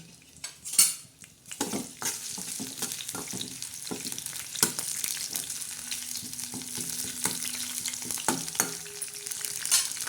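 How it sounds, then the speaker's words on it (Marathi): Garlic and curry leaves fry in hot oil for a tadka tempering, giving a continuous sizzle with occasional clinks and scrapes of a stirring utensil against the pan. "लसूण आणि कढीपत्ता टाकणार आहोत तडका देण्यासाठी"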